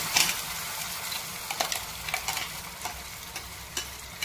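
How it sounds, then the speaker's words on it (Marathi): Homemade masala frying in oil in a pot, a close, steady sizzle broken by scraping stirs and sharp spatters at irregular intervals. "आता याच्यामध्ये टोपामध्ये काय टाकलं, तेल टाकलेलं आहे। आता त्याच्यामध्ये हा तयार केलेला मसाला टाकत आहे"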